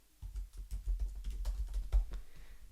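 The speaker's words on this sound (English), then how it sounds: "So I'm going to go ahead and type in Sushi Club." Quick, close clicking of a computer keyboard as a short name is typed, a brisk run of light keystrokes with no voices.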